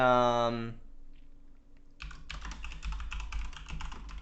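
A computer keyboard clicks in rapid, close typing after a brief stretch of voice and a quiet pause, the keystrokes continuing steadily to the end.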